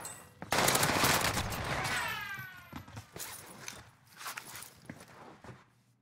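Armaguerra gunfire in Warzone: a loud burst of rapid shots at the start, then scattered quieter shots and footsteps.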